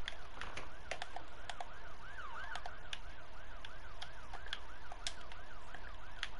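A rapid, warbling siren repeats continuously, rising and falling in quick cycles, with scattered clicks and taps in the foreground.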